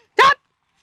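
A single short, sharp dog bark, close and fairly loud, followed by silence.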